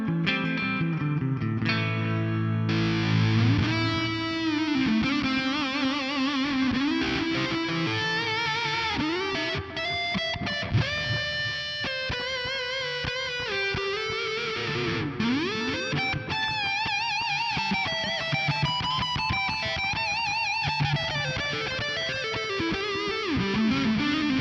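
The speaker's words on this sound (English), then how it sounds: "I've got an analog delay up front, a compressor, and then I'm going to kick in the muff fuzz." Electric guitar played through a NUX Mighty Plug Pro with analog delay, compressor and muff fuzz, a thick sustained fuzzy lead with echoing repeats, continuous and loud for the whole stretch with no talking.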